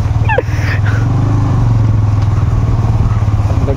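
A motorcycle engine labours steadily and loudly on a badly broken road, a continuous close drone with rattling clatter, apparently left in too high a gear.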